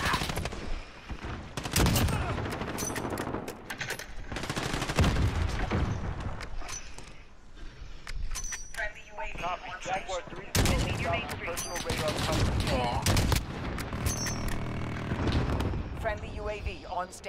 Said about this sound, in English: Enemy sentry gun active. Hostiles in the area.